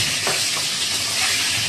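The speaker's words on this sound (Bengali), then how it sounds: "কড়ায় তেল গরম হয়ে গেছে, এখন দিয়ে দিলাম বেগুনটা" Eggplant dropped into hot oil in a wok, giving a loud, dense, continuous sizzling hiss that fills the short moment without pause.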